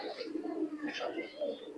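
Teddy pigeons coo in soft, low, rolling calls close by, overlapping with a voice talking.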